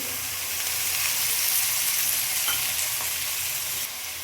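Onions sizzle steadily in hot oil while being stirred in a pan for a village-style fish fry, a continuous dense crackle with faint scraping strokes, close and fairly loud, no voices.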